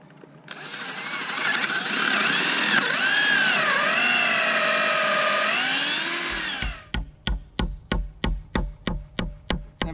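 A power drill whines at rising and falling speed for several seconds while boring into a chicken tractor panel, then a series of about a dozen sharp, evenly spaced knocks follows close up.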